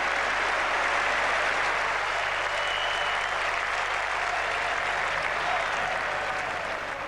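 Cricket crowd at an England v Australia Test match at Old Trafford in 1981 applauding steadily, a dense, continuous wash of clapping that holds loud throughout and eases slightly toward the end.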